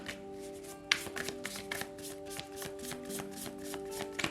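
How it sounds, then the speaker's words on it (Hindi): A deck of tarot cards is shuffled by hand before a reading: close, quiet riffling and soft repeated taps in an irregular rhythm, with no talk. "तो चलिए शफल कर लेते हैं मेष राशि एरीज साइन के लिए।"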